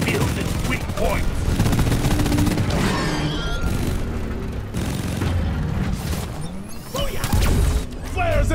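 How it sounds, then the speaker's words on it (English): Rapid gunfire and booming blasts from weapons fired at a Hive Guard in Deep Rock Galactic, loud and continuous with crashes and bursts layered over game noise for the whole stretch. "Shooting the Hive Guard before it reveals its weak points."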